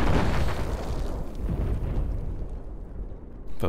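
Tank shot explosion in Battlefield 4 on the Silk Road map, a heavy booming blast that rumbles and fades over a few seconds, followed by a sharp crack at the end.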